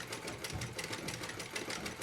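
A sewing machine stitches a snowflake appliqué with a fast, steady, rhythmic clatter that runs without pause at close range.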